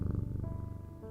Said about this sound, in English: he rubs my chin with the back of his head, purring with delight